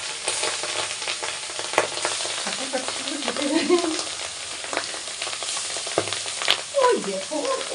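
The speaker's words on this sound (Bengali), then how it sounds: "তো কড়াই গরম হয়ে গেছে, মাছ ছেড়ে দিচ্ছি।" Small fish fry in a hot wok with continuous crackling sizzle, scattered pops and the occasional scrape of stirring, close and steady throughout.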